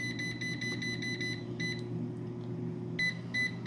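An air fryer set to 340 degrees gives a run of short, bright electronic beeps, with a pause in the middle and a couple more at the end, over a steady low fan hum.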